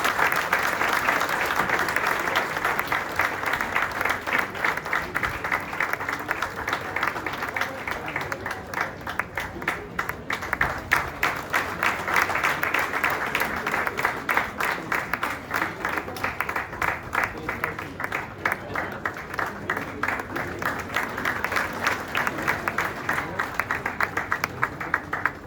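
Guests at a railway retirement ceremony applaud in a long, continuous round of clapping, rhythmic in places and steady in loudness, with faint crowd murmur beneath.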